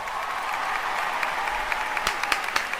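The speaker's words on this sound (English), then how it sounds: "The crowd went wild for it as well." A crowd at a meet-and-greet applauds steadily, a dense wash of clapping with a few sharper individual claps standing out toward the end.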